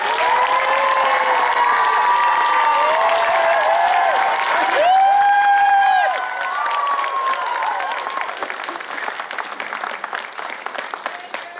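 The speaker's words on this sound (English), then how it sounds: "Round of applause." A concert audience applauds steadily at a faith concert, with cheering and a sung or shouted tone over the dense clapping, which gradually thins toward the end.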